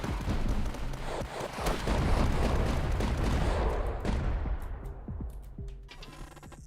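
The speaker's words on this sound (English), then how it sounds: "so these 4 big guns just came to life on the base." Four big Durandal turret guns fire on a base in an indie tower defense video game, a dense rapid barrage of heavy booming shots that thins out and fades near the end.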